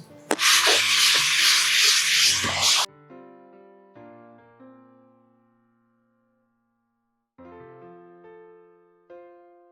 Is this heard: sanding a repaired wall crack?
yes